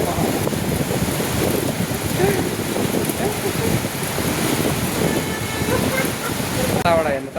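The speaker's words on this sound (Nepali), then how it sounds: "हावा हेर्नुहोस् गाइस हावा यस्तो दामी हावा चलिरहेछ नि" Strong wind gusts buffet the microphone outdoors, making a loud, continuous roaring rumble that runs the whole time, with faint scattered sounds in the background.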